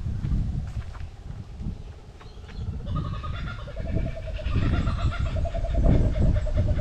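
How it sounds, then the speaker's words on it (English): A kookaburra gives its laughing call by a surf beach on a cold day, rising from broken chuckles into a loud, rolling cackle over constant low wind and wave rumble, with no talk. "And there's a kookaburra."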